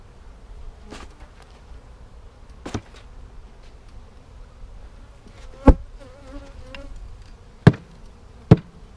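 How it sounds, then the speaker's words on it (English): Honey bees buzzing around a beehive, a faint continuous hum of wings nearby, broken by several sharp knocks and taps from handling the hive. "Dump the rest of those bees in, then we'll just leave this right out here, and any leftover bees can just wander right in."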